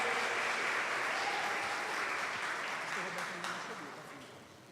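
Congregation clapping during a church conference session, a dense, even roar of applause that starts loud and gradually fades over a few seconds, heard from within the hall.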